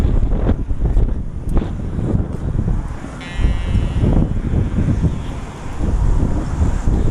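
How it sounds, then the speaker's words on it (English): Strong, cold wind in a large park in Moscow buffets the microphone, a loud continuous roaring rumble that swells and eases in gusts. "it's super windy and super cold"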